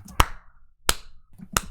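Sharp claps in a song, three distinct loud hits spaced roughly evenly with quiet gaps between, crisp and close.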